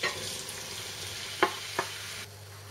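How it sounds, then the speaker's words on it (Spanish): Onion softening in a little oil for a sofrito to go with gratin potatoes, a quiet low sizzle with two sharp utensil clinks against the pan partway through before the sound drops away. "Para hacer este sofrito vamos a pochar la cebolla, como siempre, con un poco de aceite."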